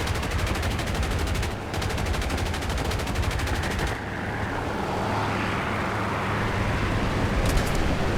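A tail gunner's machine gun on a PB4Y-2 Privateer bomber in War Thunder fires in long rapid bursts over a constant aircraft engine drone, with a short break and a final brief burst near the end.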